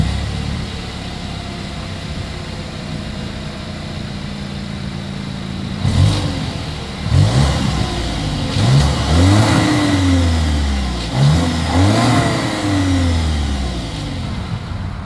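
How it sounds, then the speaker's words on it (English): A 2023 Volkswagen Tiguan SUV's engine idles low through its exhaust, then revs sharply in several quick bursts from about six seconds on, each climbing and falling back, close and loud. "As always, here is that exhaust clip."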